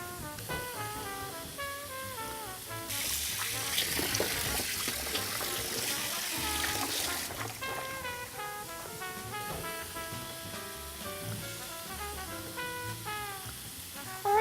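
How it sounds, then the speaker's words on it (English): Tap water runs steadily for about four seconds as hands are washed at a kitchen sink, a broad hiss partly masked by continuous background music. "I'm just going to wash my hands."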